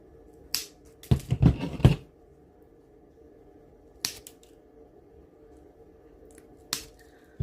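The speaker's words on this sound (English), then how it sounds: "take some little snips or some little scissors and then just trim off your sticks" Several crisp snips of small scissors cutting through firm sticks: a single snip, a quick burst of cuts, then two more isolated snips in a quiet room.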